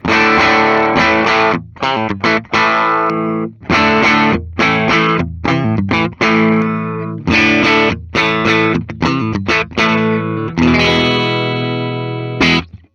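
A distorted 2013 Gibson Les Paul Standard electric guitar plays loud, chunky chords in short rhythmic bursts with brief gaps between, ending on a sustained ringing chord.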